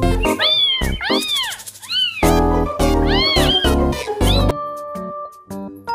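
A toy cat plays a looping electronic meow, repeated several times in a bright, loud, close sequence over a musical backing, with no talk.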